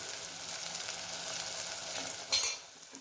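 Matar paneer gravy bubbles and sizzles in a pan just after water rinsed from the mixer jar is poured in; a steady close hiss rises briefly into a louder spitting burst near the end.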